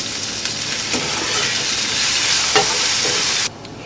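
Onion sizzles in hot oil in a pan while being stirred, a loud continuous crackling hiss with a few scraping stir strokes before it suddenly drops away near the end.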